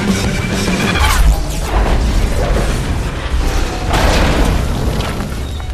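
A warship, the London Nautica, opens fire in Wolfenstein: loud, dense booming and crashing blasts rolling on without pause for several seconds, with heavier surges near the start and again toward the end.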